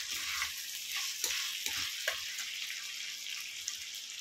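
Pumpkin curry sizzles steadily in a pan while a utensil stirs it, with a few soft scraping knocks over a continuous frying hiss.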